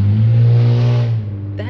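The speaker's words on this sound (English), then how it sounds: "That's somebody's car making that noise." A car revving loudly outside, a steady low engine drone for about a second before it drops away.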